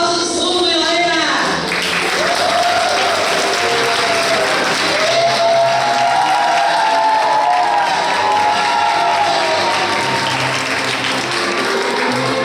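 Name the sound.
audience applause for couple at wedding renewal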